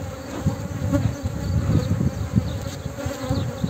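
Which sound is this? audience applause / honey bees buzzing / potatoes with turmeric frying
honey bees buzzing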